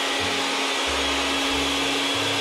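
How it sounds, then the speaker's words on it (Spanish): An electric blender grinds whole lemon with its peel in a kitchen, a steady close motor whine with a strong constant hum and broadband whir running continuously, no talking. "El limón que muela con todo y la cáscara, muy bien molido en la licuadora"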